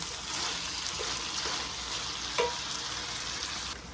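Saucy saltfish cooks in a pot with a continuous close sizzle and bubbling, and a spoon stirs it now and then. No one speaks over it.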